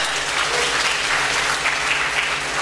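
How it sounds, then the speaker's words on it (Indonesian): Steady, dense applause from a seated audience at an Indonesian academic forum, loud and continuous throughout the short stretch with no voices on top. "Tepuk tangan untuk semuanya."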